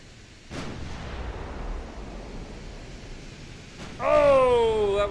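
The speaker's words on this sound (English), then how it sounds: "Oh, that was a big 11-inch hit." An 11-inch naval gun shell strikes home in the Forge of Freedom war game, a deep rumbling blast that swells and then fades, with a second impact and a bright rising tone at the end.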